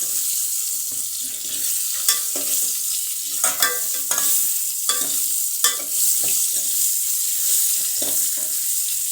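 Green chilies with mustard frying in oil with turmeric, giving a steady bright sizzle close by. Occasional clicks and scrapes of stirring break through it, and no one speaks.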